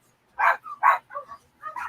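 A dog barks and yips in quick, close bursts, four or five short calls in under two seconds, with no other sound around them, during a hurricane.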